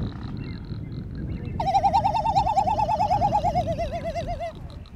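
Male frigate birds calling on Genovesa in the Galápagos, a loud warbling, wavering trill that starts abruptly and runs for about three seconds over wind and ambient rumble, close by.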